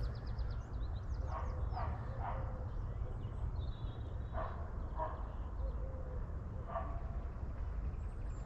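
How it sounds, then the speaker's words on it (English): Small yappy dog barking somewhere in the distance beside the Oxford Canal, several short sharp yaps in loose clusters over steady low background noise, faint and far off. "Somebody's annoying yappy dog."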